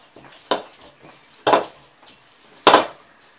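Raw meatloaf mixture being packed into a tall glass mason jar for pressure canning, heard as three loud, close clunks and scrapes against the jar with softer handling noises between them.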